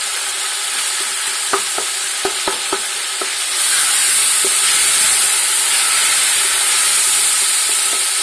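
Tomatoes and masala fry for chicken pulao, a hissing sizzle punctuated by a few sharp clinks of a spoon against the pan, then rising to a louder, steadier steam-like frying roar for the second half, with no voices.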